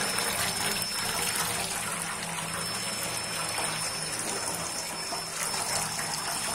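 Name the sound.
washing fenugreek leaves in water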